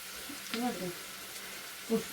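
Carrot and onion frying lightly in chicken fat, with a soft continuous sizzle, faint stirring, and a voice speaking briefly over it.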